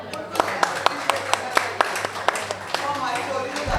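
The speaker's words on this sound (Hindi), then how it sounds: "तालियां।" A few people clap in a steady rhythm of sharp, close claps while voices talk over and around them.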